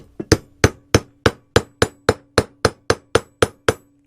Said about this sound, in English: Then you just take a hammer and tap it down.